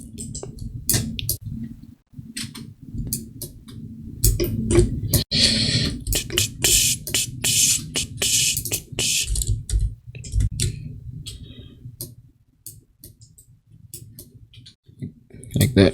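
Computer mouse clicks, many sharp close ticks in irregular bursts during clicking and dragging, set against a low background hum, with no voices.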